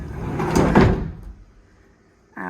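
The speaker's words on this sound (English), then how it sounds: "The doors are all messed up because when I do this" Closet doors in a rental apartment are pushed open and shut, a loud scraping, rattling rumble that peaks in the first second, fades into quiet, then ends with a short voiced sound.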